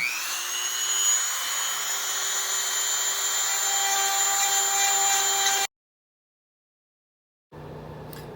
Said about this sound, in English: I'm going to use my Dremel tool. I've got just a little conical sander on there.